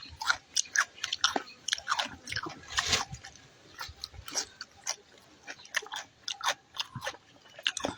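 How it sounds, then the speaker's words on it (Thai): Grilled Thai meatballs being chewed close to the mic, wet crunchy bites and squishy mastication repeating in an irregular rhythm across the whole stretch, with no talking. "เป็นการกินลูกชิ้นปิ้ง"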